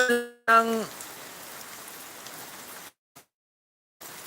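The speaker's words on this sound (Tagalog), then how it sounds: "So maulan talaga siya." Rain falling in the Philippine countryside makes a soft, even hiss. A short tonal sound comes at the start, and the sound cuts to near-silence twice.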